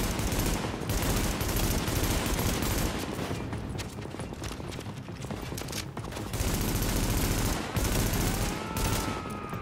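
In The Division, a gunner on a rooftop fires a machine gun in long, sustained bursts. The fire is loud and rattling, with brief gaps, and continues over nearly the whole stretch.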